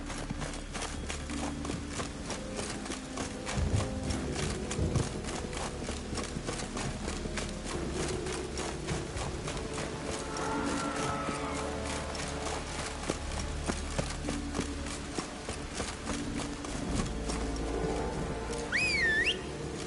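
Horse hooves in The Witcher 3 clip-clop at a steady gallop for the whole stretch, with game music and ambience underneath and a brief whistle-like sweep near the end.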